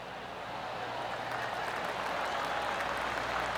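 Crowd applause from a golf gallery in PGA Tour 2K23 at The Players Championship, TPC Sawgrass, a steady broad wash of clapping that swells slightly and holds through the moment with no talk over it.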